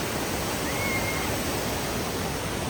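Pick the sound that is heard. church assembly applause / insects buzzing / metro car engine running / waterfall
waterfall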